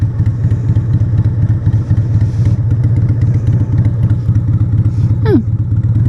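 A motorcycle engine drones loud and close while riding, a steady low throbbing rumble throughout with a brief rising whine near the end.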